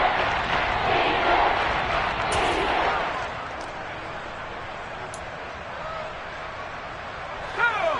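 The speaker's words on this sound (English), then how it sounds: "The crowd getting into it as we come up on a big third down." A football stadium crowd at a Seahawks game roars ahead of a big third down. The noise swells loud for the first few seconds, then eases into a lower, steady murmur of the crowd.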